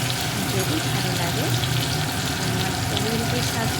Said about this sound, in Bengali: সেই মতোই টমেটোটা আমি ভেজে নিয়েছি